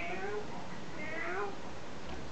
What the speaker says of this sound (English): That's Winky Cat.